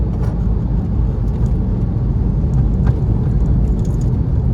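A car engine droning steadily as it accelerates around a circuit track, heard from inside the cabin as a close, loud, continuous rumble with road and wind noise.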